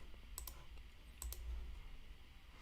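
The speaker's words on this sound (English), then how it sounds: "I'm hating this clicking noise right now. I want to use my other mouse." A computer mouse clicking during play of DC Worlds Collide: two quick pairs of sharp, close, quiet clicks, each pair separated by under a second, over low background hum.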